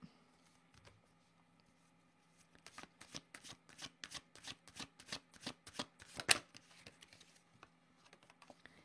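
Oracle cards shuffled by hand for a reading: a steady run of quick, crisp riffling flicks that build up, peak with one sharp snap, then trail off, close and quiet with no voice.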